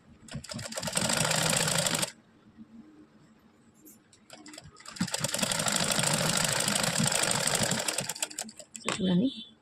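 A sewing machine stitches a patti joint in two long, loud runs of steady mechanical whirring, separated by a quiet pause with faint handling noises, then a brief burst of clatter near the end.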